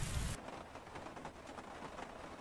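Rain falls in the video game Heavy Rain, a steady, soft, hissing patter heard outside beside a window, alone and unbroken by voices.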